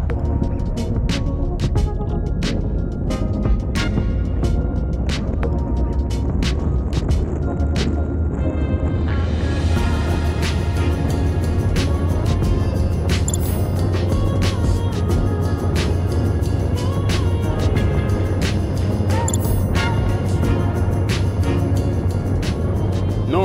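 A Ryvid Anthem electric motorcycle accelerating hard in a 0-60 run, a low electric whine rising in pitch under steady wind rush and road noise, with intermittent clicks and knocks.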